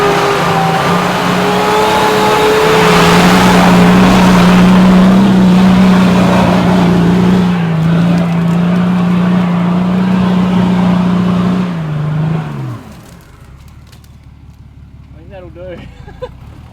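A 4x4 climbs a steep, slippery track with its engine revving in a loud, sustained drone that holds for several seconds, then drops away abruptly, leaving quieter outdoor ambience.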